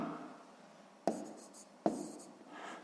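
Pen or marker writing an answer on a surface during a sixth-grade maths exercise: two sharp strokes with scratchy tails, close and clear, against a quiet room with no talking.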